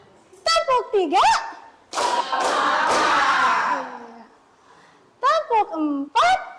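A roomful of children claps three times together in a classroom counting game. The claps are close and loud, blended with kids' voices, and a voice comes before and after.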